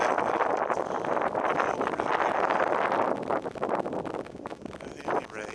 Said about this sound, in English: Very blistery, cold, windy day out here today.